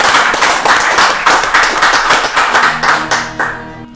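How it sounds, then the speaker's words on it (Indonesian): Close, loud clapping from a small gathering at a military command headquarters, with distinct rhythmic claps that thin out toward the end. "Kita berikan Tepuk tangan dulu."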